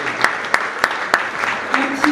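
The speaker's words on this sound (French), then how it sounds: "Applaudissements nourris, mesdames, mesdemoiselles et messieurs." Applause at an awards ceremony as a prize is announced, heard as a handful of distinct claps at a steady, slightly uneven pace over a low murmuring background.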